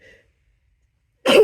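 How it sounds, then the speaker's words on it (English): A harsh, forceful sneeze set off by tickling the nose with a paintbrush bursts out loud and close near the end, after a brief faint sound and a long silence. "a sneeze like that."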